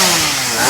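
A chainsaw runs loud and steady while cutting down a Kanjiram tree, its engine note holding close and continuous with no talking.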